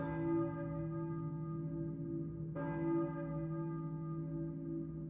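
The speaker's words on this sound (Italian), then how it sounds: "Io sento la campana di una chiesa." A church bell tolls twice in the Silent Hill video game, each strike ringing out with a long, humming resonance that hangs steadily in the quiet and decays slowly between blows.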